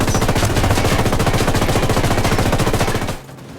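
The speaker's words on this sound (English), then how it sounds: "Ubisoft has a long history of making shooting games, and it's apparent that they have a large arsenal of shooting sounds to pull from" Rapid automatic gunfire in the video game Ghost Recon Wildlands, a loud, sustained burst of fast, evenly spaced shots that stops abruptly near the end, leaving a low rumble.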